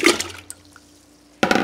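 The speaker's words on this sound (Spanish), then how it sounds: "Aquí tengo ya mi agua caliente y voy a poner la carne." Beef dropped into a pot of hot water with bay leaves, onion and garlic: a brief splash and sloshing of water, a quiet bubbling pause, then another burst of splashing, close by with no talk.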